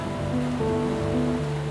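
A river flowing near a hydroelectric plant in the Capounta gorges makes a steady, continuous rushing wash that holds level throughout, with a sustained tonal hum layered over the water.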